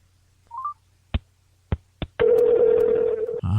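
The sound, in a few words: telephone dialing tones when placing a call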